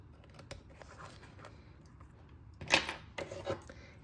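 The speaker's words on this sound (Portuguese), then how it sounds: "eu vou cortar aqui o excesso" Scissors snip off excess yarn on a crochet bag with leather parts, a few quiet close cuts with one sharper crunchy snip near the middle, no talking.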